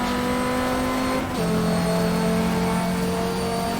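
Race car engine in the GTR 2 racing game, a steady low-revving drone with strong harmonic tones that dip briefly to a lower pitch partway through, as if shifting gear, then hold even and loud to the end with no talk.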